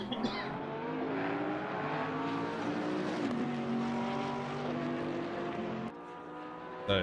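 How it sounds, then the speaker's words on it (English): A Bentley and a Porsche race car pass over the start-finish line in an endurance race, their engines droning loudly with shifting pitch as they sweep by, a sharp change near the end as they pull away. "So Bentley versus Porsche over the start finish line they go."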